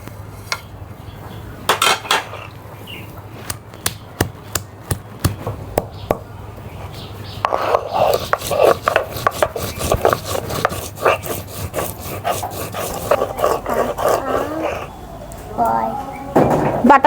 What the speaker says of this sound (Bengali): তো এগুলোর জন্য কিছু মশলা বেটে নেব।